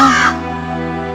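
A single loud, harsh crow caw close by, followed by a trailing, fading tail.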